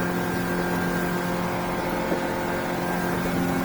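A Smokercraft Osprey 172 boat with an F70 outboard motor runs at a steady, close, droning hum with an even engine pitch and no talk.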